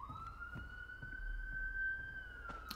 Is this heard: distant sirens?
yes